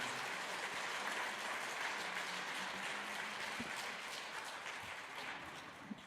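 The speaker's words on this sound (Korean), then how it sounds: "다시 한번 큰 박수를 보내주시기 바랍니다." An audience at a church book-concert applauds after a piano trio in B-flat major, a dense, even wash of clapping that holds steadily and fades slightly toward the end, heard from a moderate distance.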